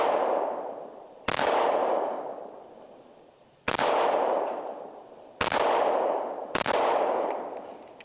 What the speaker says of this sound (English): I have one more magazine with the federal though, and I'm gonna shoot that.